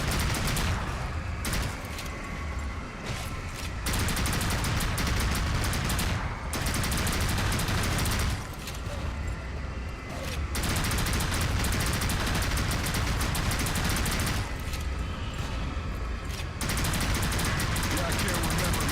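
Rapid automatic gunfire in a video game, dense bursts of shots lasting several seconds each, separated by brief pauses, loud and close throughout.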